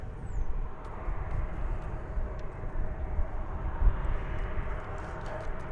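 An American Airlines jet takes off from runway 18 left at DFW Airport, a broad, steady engine roar rumbling at a distance with a faint high whine over it, and no talk.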